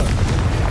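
A Confringo spell blast from Hogwarts Legacy bursts as a short, loud, dense rumbling boom, filling the moment with broad low roar and no voices.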